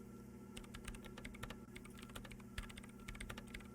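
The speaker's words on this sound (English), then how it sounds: "Her hands whirl on the keyboard." Keyboard typing in the video game Disco Elysium: rapid, irregular clicking keystrokes running steadily throughout, fairly quiet over a low constant hum, with no voices.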